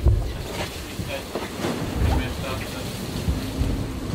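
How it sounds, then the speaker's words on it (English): Wind gusts roar across an open sailboat, with water sloshing and hull noise underneath. "It's getting a bit windy out here now."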